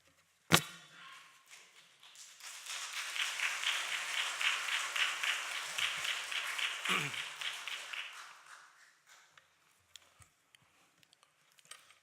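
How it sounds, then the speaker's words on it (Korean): A church congregation claps warmly before a sermon at an ordination service, a sustained round of applause rising and fading over several seconds in a quiet hall, followed by a few scattered claps. "설교를 시작하기 전부터 박수를 쳐주시니까 제가 더 짐이 되네요."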